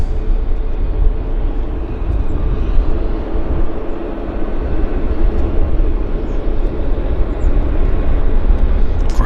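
A jet airliner rolls along at Vancouver airport, heard as a loud, steady roar of engines and rumble that stays constant throughout, with a faint hint of distant voices beneath.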